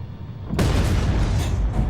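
A sudden deep boom erupts after a brief lull, followed by a roaring, rumbling blast that stays loud and heavy: a building blown apart in the tank game Armored Warfare.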